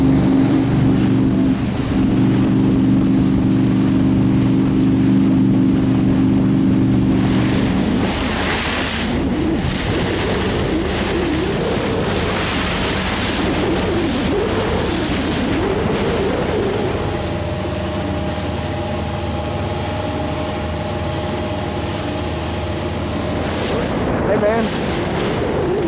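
A boat moves across open water, heard from the bow, with continuous wash of waves and heavy wind buffeting, loud and steady throughout, with faint voices at times.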